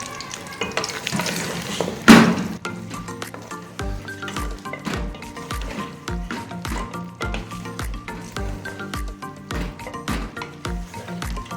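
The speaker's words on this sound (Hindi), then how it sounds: "1 किलो बीफ डाल दें इसमें, वो बॉईल किया हुआ। फ्राई करें।" Boiled beef sizzles steadily in a hot pan for biryani while a utensil scrapes and clinks against it in a loose, repeating stirring rhythm, with a louder clatter near the start.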